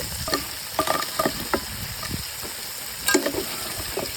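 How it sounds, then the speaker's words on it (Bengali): Chicken pieces and chopped garlic frying in a little oil, with irregular clacks and scrapes of a stirring spoon over a soft, steady sizzle, close up. "সুন্দর মতো নেড়ে নিচ্ছি"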